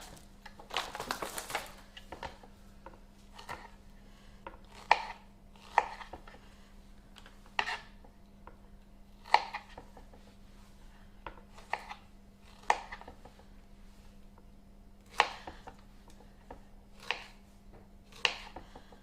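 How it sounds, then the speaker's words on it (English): Strawberries are chopped on a small grey cutting board, a steady series of crisp knife taps spaced about a second apart, close and clear with faint background hum. "This is why I got the little grey board out so that I can chop on this one, so I'm not chopping on the main board."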